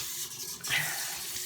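Tap water runs steadily into a sink, rinsing lip product away, a continuous close splashing flow with no talk.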